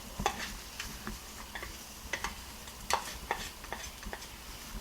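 Eggs cook in a frying pan for an egg sandwich while a spatula pushes them around, giving a steady soft sizzle broken by sharp scraping and tapping clicks of the spatula against the pan.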